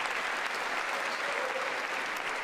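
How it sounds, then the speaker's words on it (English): Applause at the State of the Union address: a large chamber crowd claps in a steady, even wash, somewhat distant and moderately quiet, with no clear voices. "What are Republicans doing clapping?"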